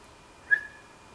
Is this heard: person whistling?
yes